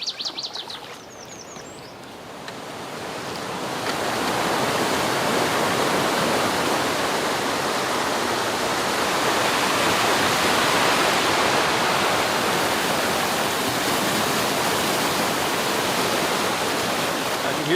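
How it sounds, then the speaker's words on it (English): A small waterfall on the Brook River, a broad steady rush of falling water that swells in after a quieter start and holds loud and close, with faint bird chirps early on. "I could hear this little waterfall from afar and couldn't resist checking it out."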